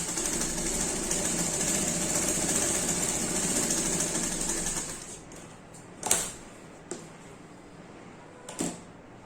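A sewing machine runs steadily stitching the collar of a kurti, a loud continuous whir for about five seconds, then stops, followed by a few sharp clunks and handling knocks.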